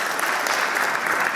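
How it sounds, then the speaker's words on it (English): Audience at a high-level human rights event at the United Nations in Nairobi gives a short burst of steady, even applause, heard fairly close with no talking over it. "Let's give a warm round of applause for that"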